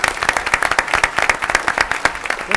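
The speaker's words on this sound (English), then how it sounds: "They need to get a round of applause." An audience at a school board meeting claps in steady applause for the parents, a dense run of hand claps that holds at an even level throughout.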